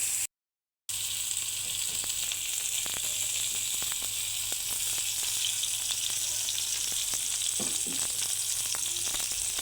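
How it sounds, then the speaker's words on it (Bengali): Spices frying in hot oil with radish greens, a steady soft crackling sizzle with occasional light stirring clicks throughout. "ওই তেলের ভিতরেই মশলাটা কষিয়ে দেব"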